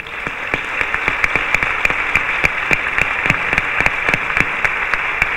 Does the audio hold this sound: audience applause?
yes